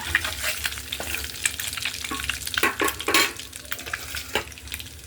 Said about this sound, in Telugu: పసుపు వేసి వేపితే ఇలా చాలండి, లైట్గా వేపితే.